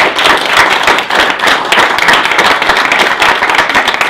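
A small group claps at a rugby league club press conference, a close, loud run of individual hand claps with uneven rhythm, no talk over it.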